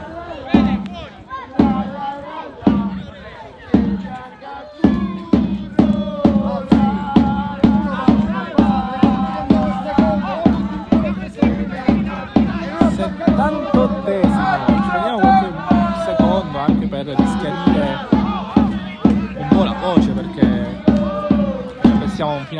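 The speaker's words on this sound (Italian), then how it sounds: "farvi sentire la bellezza del tifo di San Vito" Supporters of the San Vito Lo Capo football team chant and clap rhythmically in a small stadium, a steady pulsing beat of claps and voices that carries on loud and close throughout.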